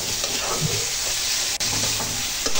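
Tomatoes sautéing in a pan for a cauliflower and taki fish curry, with a steady close sizzle and occasional scrape of stirring throughout, no voices.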